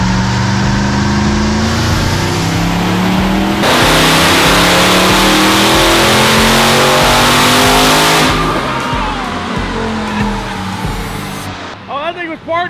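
A Ram TRX fitted with a Hellion twin turbo kit revs hard on a dyno, its engine note loud and close, climbing through a long sustained pull before easing off, with voices near the end.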